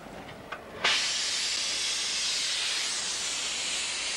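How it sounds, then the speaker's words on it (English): After a few soft pops, a gas and oxygen burner nozzle bursts into a loud, steady hiss that holds constant to the end. "So that's gas and oxygen mix now coming out of that nozzle, isn't it?"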